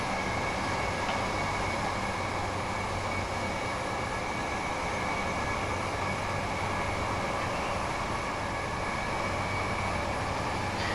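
A Class 802 train drives into Cardiff Central, giving a steady, even drone and low rumble from inside the cab that holds constant without voices.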